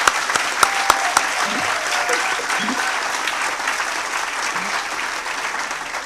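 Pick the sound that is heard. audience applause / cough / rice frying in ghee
audience applause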